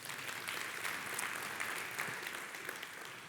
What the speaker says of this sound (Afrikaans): Kom ons gee maar lekker hande klap